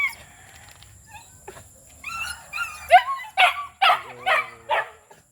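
Several dogs bark and yip in quick excited bursts, close and fairly loud, with a whimpering high tone early on and a faint rural background.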